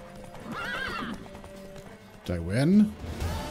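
Horse hooves clip-clop with a neigh and whinny in The Witcher 3: Wild Hunt, a sharp whinny rising near the end over busy game sound with voices in the background.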